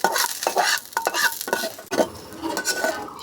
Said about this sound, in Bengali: শুকনো মরিচ ভাজছি